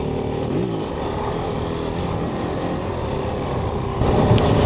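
A Kove 450 Rally motorcycle ridden off-road, its engine a steady, close drone that swells louder near the end.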